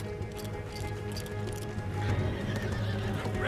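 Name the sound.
horses neighing and galloping in video game Red Dead Redemption 2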